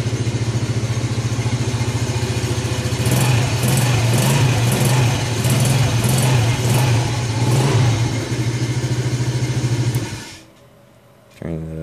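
A moped or scooter engine starts at the push of a button and then runs at a steady, buzzing idle. It swells briefly in the middle, then cuts off near the end with a click.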